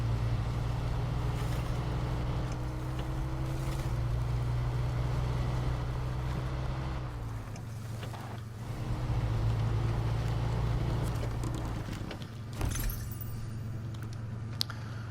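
A truck engine idles and drones in the snowy off-road driving game Snowrunner, a steady low rumble with a pitch dip and brief lull around the middle before it resumes, plus a few small clicks near the end.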